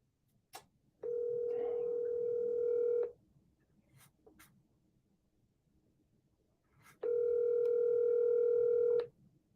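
Two long, steady telephone call tones ring out during an outbound call to a realtor's office, each lasting about two seconds with a pause between them, clear over a faint, low background murmur.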